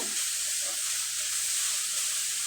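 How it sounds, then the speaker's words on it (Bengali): Grated coconut and jaggery cook in a wok for a pitha filling, producing a soft, continuous low sizzle and hiss with faint stirring underneath. "নারকেল কোরানোটা দেওয়ার পরে খুব ভালোভাবে নেড়ে চেড়ে পুরটা আমি রেডি করে নেব"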